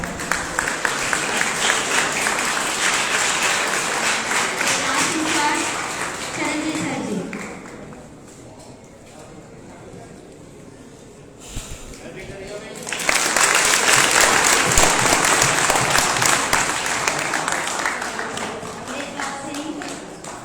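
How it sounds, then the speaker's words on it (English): Audience applause at an annual school award distribution ceremony, a steady wash of many hands clapping that drops to a quieter lull midway, then surges back loud and full, with voices mixed underneath. "Big clap for them"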